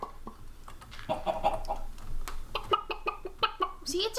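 A person imitates a chicken with a run of choppy, nasal clucks in an uneven rhythm, close and fairly loud, while playing Minecraft.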